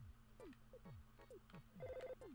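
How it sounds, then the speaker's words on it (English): A chiptune telephone ring from the video game Earthbound gives a short electronic trill near the end, set among quiet descending bleeps and blips of game music, all faint. "And then suddenly, ring, ring, ring, answer your goddamn phone."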